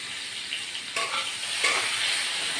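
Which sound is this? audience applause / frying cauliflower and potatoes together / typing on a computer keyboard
frying cauliflower and potatoes together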